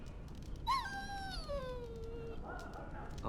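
A dog in the game Dragon Age Origins gives a high, wavering whimper that slides downward, close and fairly loud against a low background hum, followed by fainter whining.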